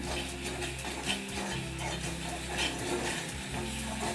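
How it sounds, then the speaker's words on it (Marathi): Spoon stirring and sautéing wood apple halwa in a pan over low heat, a steady soft sizzle with repeated scraping strokes running continuously throughout. "तीन चार मिनिट परतून घ्यायचं आहे सतत फिरवत राहायचं आहे चमच्याने"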